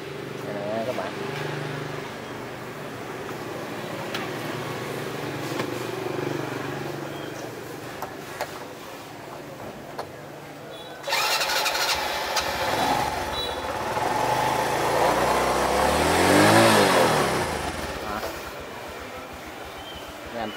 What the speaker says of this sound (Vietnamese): Tao nổ máy thử nè.